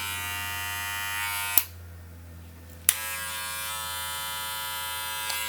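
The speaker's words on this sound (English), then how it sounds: "So as you can hear, that's the sound of the motor." A Wahl Legend Plus electric hair clipper with an upgraded motor hums with a steady, close, bright buzz that cuts off for about a second with a click, then restarts and runs on alone.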